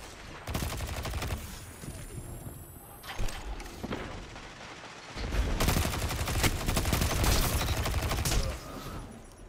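Gunfire in a Destiny 2 Iron Banner match, with bursts of rapid shots and sharp impacts, a lull in the middle, then a longer sustained stretch of dense firing.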